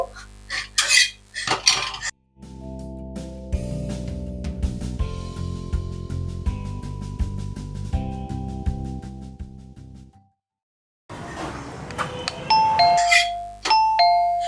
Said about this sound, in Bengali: ওই যে এসেছে, কলিং বেল বেজেছে